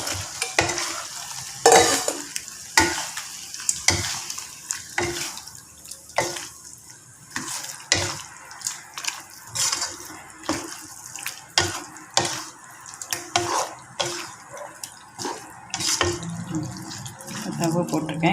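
Tofu pieces fry and sizzle in a pan while being stirred, with repeated close scraping and clattering strokes over a soft, constant frying hiss.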